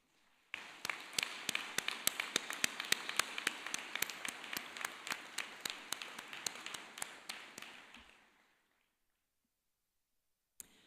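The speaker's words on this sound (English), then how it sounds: "please take a moment to show your appreciation to them with a round of applause" A round of applause at a university commencement ceremony rises quickly, a dense patter of many hands clapping for several seconds before fading out into silence.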